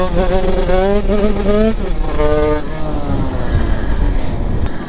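A 1986 Yamaha DT motorcycle running on nitrous oxide revs hard and its engine hangs at high revs instead of dropping to idle, a loud, close, rising-and-falling whine with a voice over it.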